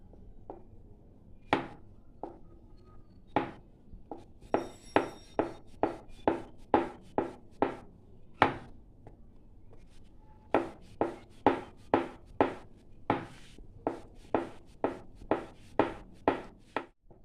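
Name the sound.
rolling out thin dough discs with dry flour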